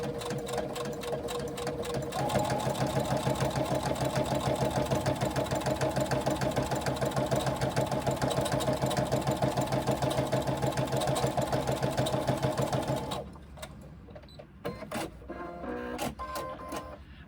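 A sewing machine runs steadily, stitching a second row on a small pouch with a fast, even mechanical rattle and motor hum, then stops and leaves a few scattered clicks and handling taps.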